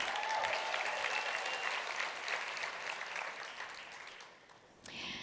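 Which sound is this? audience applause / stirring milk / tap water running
audience applause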